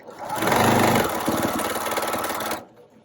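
A Brother PQ1500SL sewing machine back stitches a quilt border, running in one loud, steady mechanical whir for a few seconds before stopping abruptly.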